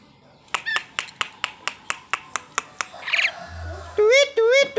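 A caged bird trades calls with a person whistling: a regular series of sharp clicking snaps, a short squawking burst, then loud chirping whistled notes near the end.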